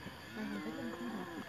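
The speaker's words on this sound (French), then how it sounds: "Regardez, les vaches en bas, elles nous regardent." Cows lowing in a field below a hot air balloon over Autun, a single long drawn-out moo heard at a distance over steady background hum, with no talking.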